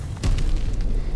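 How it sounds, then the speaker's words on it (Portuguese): A grenade goes off in Call of Duty: Vanguard as one short, heavy, low boom that rumbles briefly before the clip ends. "Cuidado, joguei granada aí, joguei granada."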